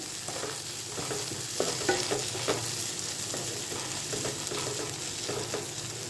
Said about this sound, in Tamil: ஒரு 10 செகண்ட் கிளறி விட்டுட்டு ஆஃப் பண்ணிவிடுங்க